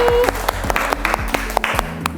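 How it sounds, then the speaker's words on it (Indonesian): Students in a classroom clap briefly, a short burst of sharp hand claps mixed with bright tones and some thumping, fairly close and loud. "Tepuk tangan untuk Denny."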